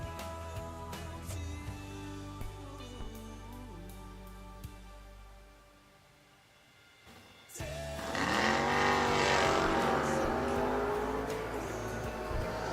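Drag race cars, a Mustang and a Henry J, rumble loudly at the line with engine revs, ease off into a lull, then launch and roar at full throttle down the track, heard close with no talk over them.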